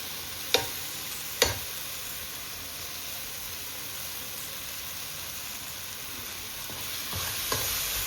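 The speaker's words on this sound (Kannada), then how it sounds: "ಇವಾಗ ರುಬ್ಬಿಕೊಂಡ ಮಸಾಲೆಯನ್ನು ಸೇರಿಸ್ಕೊಳ್ತಾ ಇದ್ದೀನಿ." Ground masala is stirred into frying avarekai kurma in a pan, producing a steady close sizzle and hiss, broken by a few sharp spoon knocks against the pan.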